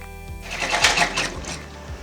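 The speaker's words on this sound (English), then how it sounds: "I'm going to go ahead and I'm going to stitch out my placement stitch" Embroidery machine stitching out a placement outline on a hooped pot holder, a fast, steady mechanical needle chatter with rhythmic pulses, close and fairly loud, with no talking.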